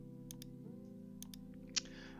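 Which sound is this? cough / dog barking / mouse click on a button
mouse click on a button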